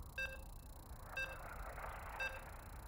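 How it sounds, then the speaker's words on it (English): Three evenly spaced electronic loading beeps in a Polish video game tournament, faint and short over a low background hum. "you can hear the beeps as we are loading in to the final series of the night"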